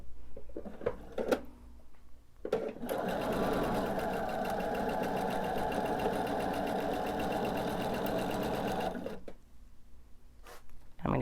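A sewing machine stitches triangle quilt units with a scant quarter-inch seam, starting after a few soft clicks and running in a steady, close mechanical whir for about six seconds before stopping.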